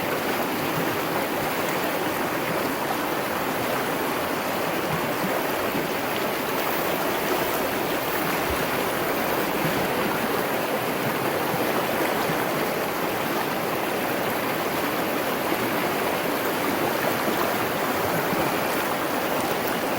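A mountain stream beside a highway rushes and burbles in a dense, unbroken roar, close and loud for the full stretch, with no voices over it.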